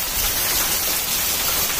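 Heavy rain pours down in Bhawanipatna, a dense, loud and constant hiss of falling water lasting throughout with no pauses and no voices.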